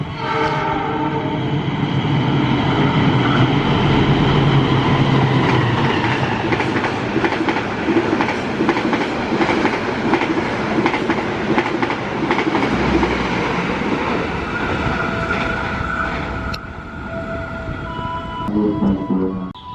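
A long passenger train running from Jakarta to Banjar, hauling about 13 cars, rumbles past loudly and continuously for about twenty seconds, with clattering wheels and sustained horn tones over the roar.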